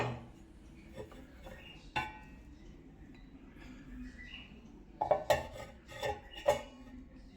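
Cast iron paniyaram pan and appam pan handled in a home kitchen, scattered metallic clanks and clinks, a few sharp knocks with quieter shuffling between, close and moderately loud, no talk.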